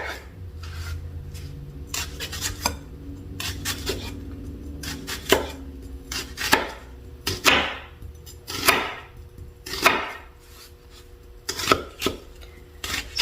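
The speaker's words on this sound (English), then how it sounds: "So I'm just gonna start cutting my onions" A knife chops onions on a cutting board in a series of distinct, close strokes with pauses between them, sharp knocks against the board mixed with scraping.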